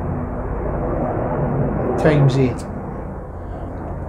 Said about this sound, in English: excuse the helicopter going over viewers